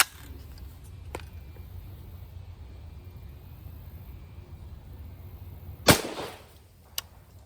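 A rifle fires a single M193 5.56 round through a 16-inch barrel outdoors, one sharp loud crack near the end of a quiet stretch, followed by a fainter click.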